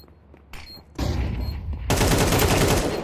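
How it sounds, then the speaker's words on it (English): A flashbang and gunfire ring out during a professional tactical shooter video game match in the PrizePicks NA Revival quarterfinals. A quieter lead-in builds into sustained loud, dense bursts of shooting that grow stronger toward the end. "Oh, that flashbang just didn't do much."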